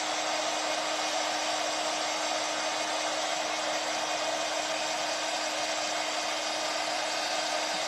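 A hair dryer blowing steadily to dry foil adhesive on a foam egg, a constant loud whooshing hum with a fixed motor whine, close and unbroken for the whole stretch, with no talk.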